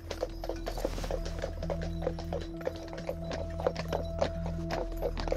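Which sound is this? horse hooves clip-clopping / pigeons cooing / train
horse hooves clip-clopping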